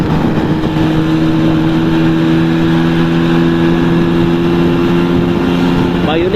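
Vespa PX 150 scooter engine droning steadily while riding on a cold Bandung road, a close, continuous mid-pitched hum with slight pitch shifts and wind rush throughout.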